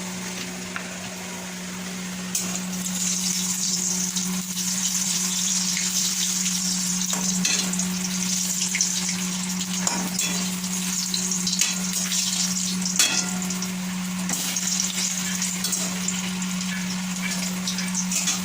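Potatoes frying in hot oil with whole spices, a steady close sizzle and crackle with occasional stirring taps, running continuously without talk.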